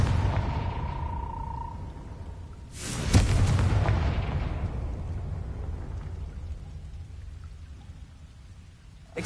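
A Confringo spell blast in Hogwarts Legacy comes in as a sudden booming burst after a short quiet hum, then trails off into a long rumbling decay, heard alone without speech.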